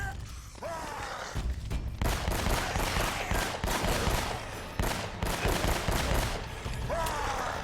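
Gunfire in the video game Uncharted: Drake's Fortune, a dense run of rapid shots and bursts firing almost continuously, loud and close, with a few brief pauses between volleys.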